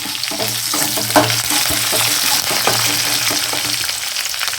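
Garlic and curry leaves fry in hot oil for a fish curry, a loud, steady, close crackling sizzle with stirring scrapes running through it.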